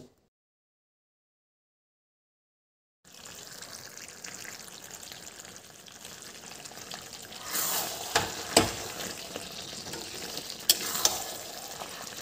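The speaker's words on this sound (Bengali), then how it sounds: "এবার দিয়ে দিচ্ছি চিকেন। মশলা বেশ ভালো করে এবার কষিয়ে নেব।" Chicken frying in a pan with a dry-roasted spice mix, a steady close sizzle starting after about three seconds of silence, rising with a few louder stirring scrapes and crackles toward the end.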